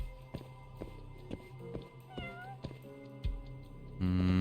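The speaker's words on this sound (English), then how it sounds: "I need you to meow again. I need you to meow every second." A cat in the video game Judgment gives a single short meow midway, among soft rhythmic footstep taps, followed by a loud sustained tone at the end.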